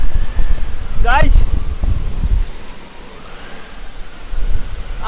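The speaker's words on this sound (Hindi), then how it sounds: "बहुत तेज आंधी है" A strong dust storm in a desert village roars with loud, gusting wind that rises and falls throughout, while a person briefly calls out over it.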